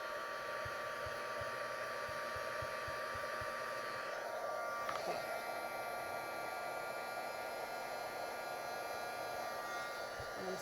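Steady, loud blowing whir of a heat tool melting embossing powder during a paper-stamping craft project, running continuously and close up with no talk over it.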